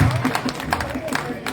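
An audience at a kavi sammelan poetry recital in Mandawa claps in scattered, rhythmic applause while someone speaks over it.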